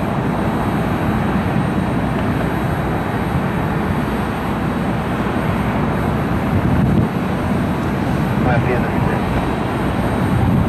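Airliner taxiing toward the runway at Cleveland Hopkins Airport, a loud, steady engine roar and broadband rumble that holds evenly throughout without clear breaks.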